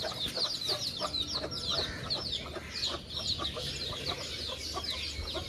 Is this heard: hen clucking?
yes